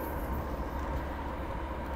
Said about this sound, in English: There go that BNSF train.